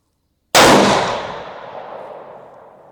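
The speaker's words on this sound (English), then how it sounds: "So yeah, 550, Ruger, first shot." A single loud Ruger Gen 2 rifle shot in 7PRC fired at an outdoor range, a sudden close blast followed by a long fading echo.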